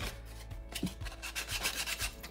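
Hand sanding produces a rhythmic, close rasping rub, with strokes repeating about every half second and no talk.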